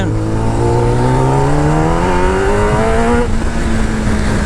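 A Kawasaki ZX-10R motorcycle engine revs steadily and loudly up close, its pitch climbing smoothly over a few seconds and then holding high, with no talking.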